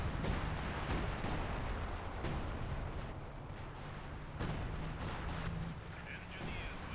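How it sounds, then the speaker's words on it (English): Artillery barrage in Company of Heroes 2 called onto the centre of the map, a dense, continuous rumble of explosions with several sharper impacts standing out, booming steadily for several seconds. "Calling an artillery on the centre."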